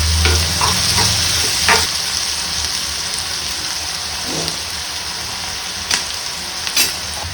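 Sliced onions sizzle steadily in hot oil in a pan, with a few scraping stirs of a spoon across the pan, close and continuous with no talking.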